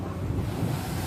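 Ocean waves at Kanyakumari surge in a loud, continuous rumble with heavy wind buffeting the microphone, a short close burst of churning surf.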